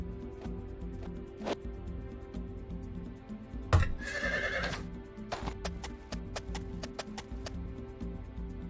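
A horse neighs loudly in the Heroes 3 HotA strategy game, a single long whinny over steady game music with scattered clip-clop ticks before and after.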